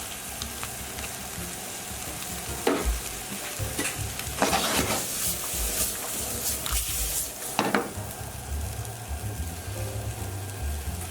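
Garlic and sauce sizzle and fry in a pan for chicken pad thai, a steady hiss with several louder bursts as ingredients are stirred and tossed, close and fairly loud throughout.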